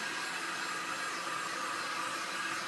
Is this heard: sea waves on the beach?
no